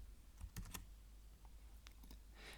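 Quiet keystrokes on a computer keyboard: a few soft, separate clicks in a short burst, then a couple more taps after a pause, with no talking.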